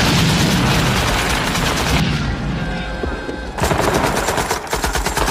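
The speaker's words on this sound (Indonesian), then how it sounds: "Joker terpaksa melepaskan peluru full metal jaketnya untuk membantu rekan-rekannya mencegah musuh memasuki markas" Machine gun fire in a Vietnam War film battle scene at a defended base: loud, dense sustained bursts that pause briefly midway, then resume with rapid, heavy firing.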